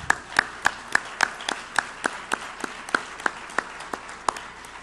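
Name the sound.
audience warm applause at awards show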